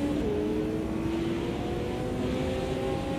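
Chevrolet Camaro GT4 engine accelerating in Automobilista 2, a steady loud drone with its tone slowly climbing as it pulls, alone and with no talk.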